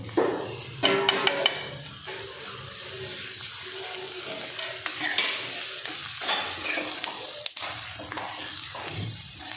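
Green chillies frying in a pan with onions and ginger for a cluster bean dish, a steady sizzle under stirring and scraping sounds, close and moderately loud, with no talking.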